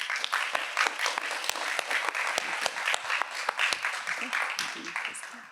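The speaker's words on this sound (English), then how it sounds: "Can we give them a round of applause?" An audience claps for a panel of managers at a Minnesota Aspirations in Computing internship presentation hosted by the Minnesota Twins, with steady dense applause throughout and a few voices in the room.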